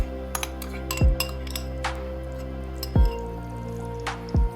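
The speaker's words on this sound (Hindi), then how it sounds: "तो सबसे पहले हम इसमें डालेंगे घी। यहाँ मैं देसी घी ले रहा हूँ।" Desi ghee is poured into a pan for a millet cheela, heard as three soft, close plops with light metallic clinks in a quiet kitchen.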